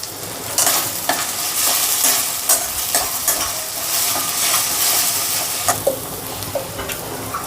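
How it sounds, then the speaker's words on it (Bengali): Rohu fish masala with ginger garlic paste frying in a pan, a loud continuous sizzle broken by frequent scraping stirs of a spatula, close and without speech. "আবার এটাকে ভালো করে নেড়ে দেবো"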